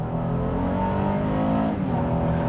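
A 2021 Honda Ridgeline Sport HPD pickup with its 3.6-liter V6 accelerating, heard from inside as a steady, loud engine drone that stays strong throughout with no talking.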